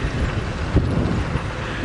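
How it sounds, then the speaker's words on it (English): Gusty wind buffets the microphone during an open safari drive at sunset, in a steady low rumble, with a brief stronger gust partway through; no voices. "Woo, it's windy."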